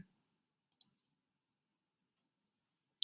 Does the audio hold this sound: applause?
no